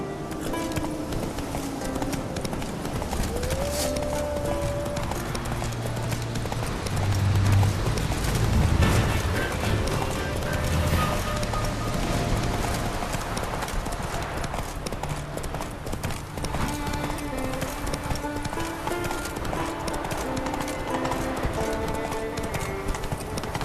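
Roach the horse's hooves clip-clop steadily through a Witcher 3 Wild Hunt ride, a rhythmic trot running throughout over game music, with a brief whinny and faint voices.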